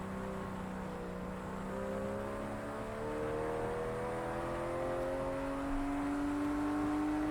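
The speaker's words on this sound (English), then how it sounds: "now you get to experience the torture of a BMW engine in third gear up a hill" BMW car engine straining in third gear up a hill in the Project Cars 2 racing game, a steady, droning rev that climbs slowly in pitch over several seconds, alone with no talk.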